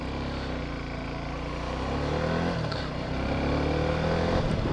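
A 250cc adventure motorcycle pulls away and accelerates through its gears, the engine note climbing steadily and dipping briefly at each shift under heavy wind rush, heard from the rider's position with no talk.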